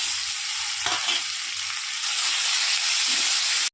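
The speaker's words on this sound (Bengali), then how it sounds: "দুটা তেজপাতা যে লাল করে ভেজে নিয়েছি এখন এর মধ্যে মশলাগুলো দিয়ে দিলাম" Spices are added to hot oil in which bay leaves are already frying, producing a loud, dense, continuous sizzle with a few brief stirring knocks, close up, before the sound cuts off abruptly.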